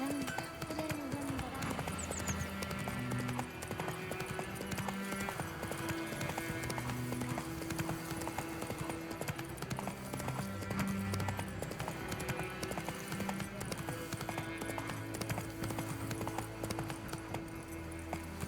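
A horse gallops in The Witcher 3: Wild Hunt, its rhythmic hoofbeats clip-clopping steadily throughout over a bed of game music, with a voice occasionally heard.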